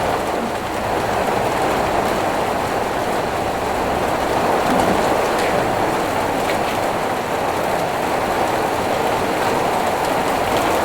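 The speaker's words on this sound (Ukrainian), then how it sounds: "Я спочатку подумала, що град. Прям білі крупні куски, воно дощ." Heavy rain shower pours steadily over a vegetable garden with cabbages, a dense continuous hiss of large drops lasting throughout, close and loud, with no voices.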